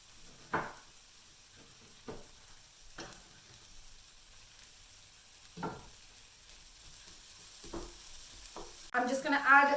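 Shahi Paneer sauce with pepper and tomato being stirred in a pan, heard as a faint sizzle broken by a few soft, separate scraping strokes, with a louder clatter at the end.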